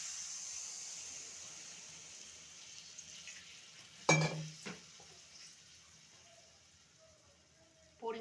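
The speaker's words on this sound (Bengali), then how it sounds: "জল দিয়ে দিচ্ছি।" Water is poured into chicken frying in oil for chicken nihari, giving a sudden loud hiss and splash over a steady sizzle. It settles into quieter simmering with faint stirring.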